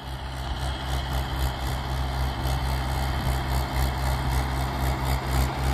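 A Mahindra 585 XP Plus tractor engine labors in fourth gear while working a field, a steady, loud low-pitched diesel drone with slight pulsing throughout, no talking.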